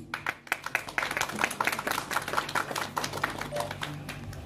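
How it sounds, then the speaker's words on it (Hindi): Guests at the inauguration of a diagnostic centre in Varanasi clap steadily, a moderately faint run of many overlapping hand claps continuing throughout without pause. "जोरदार तालियां हो जाए प्लीज"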